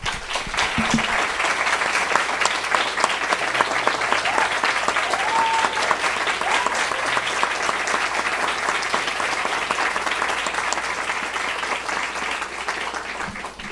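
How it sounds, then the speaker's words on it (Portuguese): Sustained applause from an audience fills an academic anniversary ceremony for a university political science graduate program, a thick, even patter of many hands clapping that holds steady and fades slightly toward the end. "uma salva de palmas para vocês, por favor"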